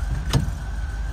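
A 1973 Chevrolet Nova four-door, parked for 32 years, rolls under its own power in drive, a steady low engine rumble with a brief click or clunk.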